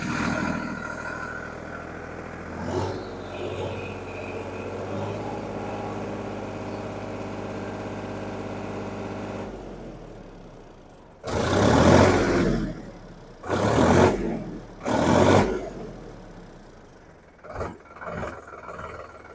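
A Sonalika Tiger DI-50 52 HP tractor engine idles steadily around 700 rpm with a low, even diesel throb for several seconds, then a few loud, short bursts of noise cut over it before the idle settles again.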